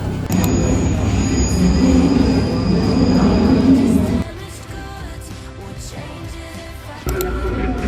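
Loud rumble and rattle of a subway train running on the tracks, easing to a quieter steady hum partway through, then swelling again.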